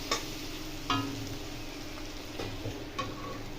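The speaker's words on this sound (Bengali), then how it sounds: "আলুটাকে ভালো করে ভেজে নেবো।" Boiled potato pieces frying with salt, turmeric and chilli powder in a pan, a continuous low sizzle with several spaced spatula scrapes and taps, close by, no voices.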